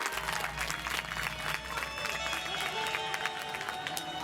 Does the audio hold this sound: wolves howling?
no